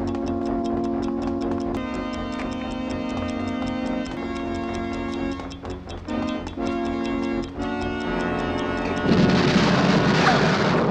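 A steady clock-like tick-tock from a time bomb found in a toilet runs under a dramatic music score, with a rising burst of noise near the end.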